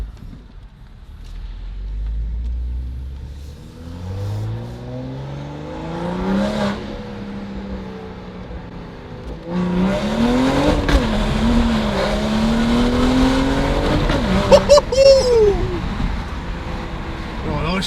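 A BMW M235i fitted with a VRSF downpipe revs hard through its gears, the engine note climbing and dropping with each shift, loud and close with a few sharp pops near the end.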